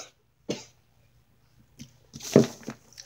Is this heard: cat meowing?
no